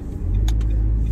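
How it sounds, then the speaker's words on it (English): Steady low blower rumble of a car's air conditioner running inside a hot parked car, loud and continuous with a couple of brief brighter hisses, no talking. "Oh, excuse my air conditioner"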